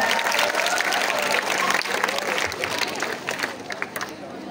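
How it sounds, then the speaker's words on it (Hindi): Loud, sustained applause from an audience at a Hindi poetry recital, dense clapping filling the room and tapering slightly toward the end. "जोरदार तालियों से स्वागत कीजिएगा"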